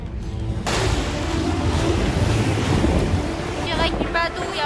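Loud, roaring wind buffets the microphone over rushing water and the rumble of a moving boat, steady throughout.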